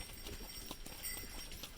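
Horse hooves clip-clop at a walk on a trail drive, giving a faint, quick series of soft thuds.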